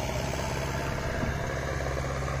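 A new Sonalika DI-55 tractor engine idles steadily nearby in a field, a loud continuous diesel drone with heavy low rumble and vibration, no voices.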